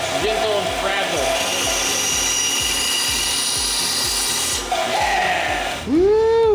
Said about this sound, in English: I had to drill one more pilot hole for the last stretch.